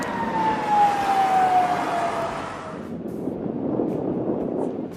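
A siren wails with a falling tone over a broad rushing background, then fades out, leaving steady noise behind.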